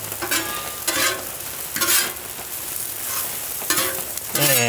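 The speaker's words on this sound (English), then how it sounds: "I'm gonna go ahead and mix the onions up in there" Onions sizzle on a hot Blackstone griddle while a spatula scrapes and stirs them in several bursts, the frying hiss steady between strokes.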